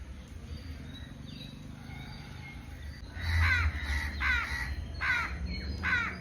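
Crows cawing in a rural village while rain falls: a steady rain hiss underneath, then a series of loud, harsh caws repeating close by in the second half.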